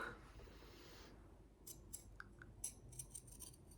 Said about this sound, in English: I then get my pinking shears.